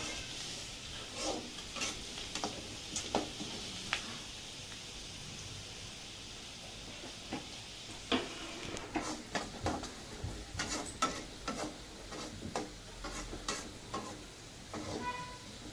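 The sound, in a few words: onions being sautéed and stirred in a pan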